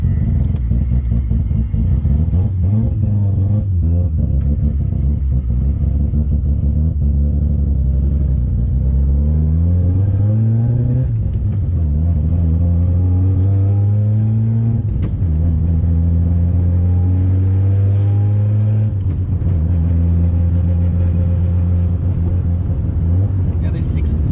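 Mazda Spirit R with a 13B bridge-port rotary and G42-1450 turbo, driven through the gears on a dyno, engine rising in pitch, dropping at each shift and climbing again, loud and close under a voice.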